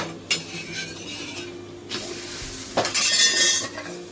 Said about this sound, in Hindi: देसी घी में सेकेंगे हम पराठे